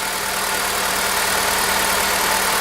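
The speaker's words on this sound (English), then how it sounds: "So with the engine running, we're going to go ahead and measure again the voltage on our battery terminals." Honda Civic engine idles steadily, heard as a constant close mechanical hum with a broad hiss and a low droning tone, no talk.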